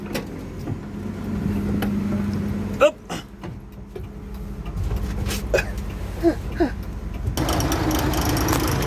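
A car, an old rear-engined Jumbo, is shifted and moved nearby, with a low engine rumble, clunks and knocks of handling, and a louder surge of noise near the end; people talk briefly.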